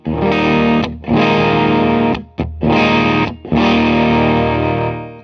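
Electric guitar through a Land Farm No Masters fuzz pedal on its cleaner setting, four sustained fuzzy chords with brief gaps between them, loud and close with a buzzing edge and no talking.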